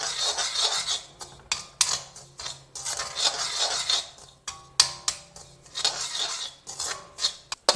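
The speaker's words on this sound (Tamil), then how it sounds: "அதனால் ரவை வாசம் வர வரைக்கும் வறுத்துக்கணும்" Semolina (rava) roasting in ghee in a pan for kesari, stirred with repeated scraping and rasping strokes of a utensil against the metal, close and alone, with short pauses between bursts.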